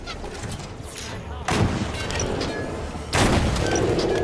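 Rocket fire and explosions in the video game Halo 5, three heavy booming blasts in quick succession, loud and close, each with a short rumbling tail.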